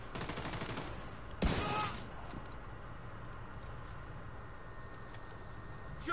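Short bursts of rapid gunfire crackle in a shooter game, with a loud flurry early on and then quieter scattered shots under low background noise.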